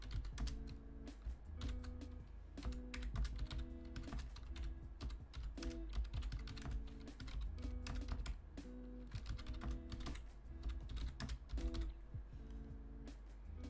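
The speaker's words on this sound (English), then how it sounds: "I'm right now typing somewhere else" Fast, continuous typing on a computer keyboard, with dense clicking keystrokes and occasional heavier key hits, close and steady for the whole stretch without any talking.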